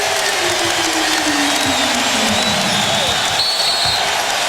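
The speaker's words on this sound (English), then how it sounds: "And the crowd has come alive." A basketball arena crowd roars steadily after a Celtics three-pointer in the 2008 Finals against the Lakers, a loud continuous cheer with a commentator talking over it.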